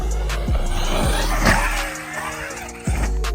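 RC car tires squeal in short bursts over a buzzing small motor, with a couple of quick skids close by and rising engine whine.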